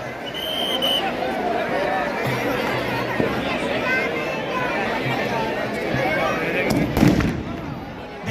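Fireworks display at a Dussehra fair, where scattered bangs and crackles burst over the steady chatter and hubbub of a large outdoor crowd, with one louder cluster of blasts toward the end.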